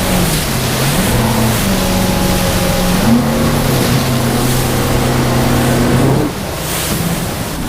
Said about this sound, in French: elle déferle celle-là